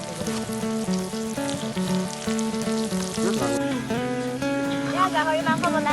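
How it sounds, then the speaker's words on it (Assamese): Pork sizzling in a karahi at a January picnic at Jugibil, Golaghat, a steady frying hiss running under loud music throughout. "দাদাই কেৰাহীত মাংস দি আছে"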